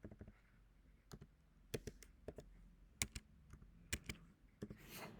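Text typed on a computer keyboard while working in an Excel spreadsheet, a sparse run of quiet, close key clicks and taps at an irregular pace, ending with a soft rustle.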